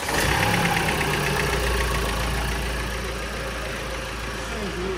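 A 2019 Ford Transit van engine idles steadily just after starting, a continuous low rumble with a slight knocking texture, close by and fairly loud, easing a little in level toward the end.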